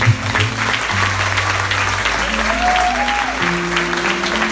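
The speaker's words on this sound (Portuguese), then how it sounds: "Queria, por favor, que você desse uma salva de palmas a Deus." A church congregation at a children's graduation ceremony breaks into sustained applause, dense clapping throughout with tonal music or voices faintly underneath.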